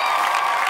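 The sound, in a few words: audience applause for dance performance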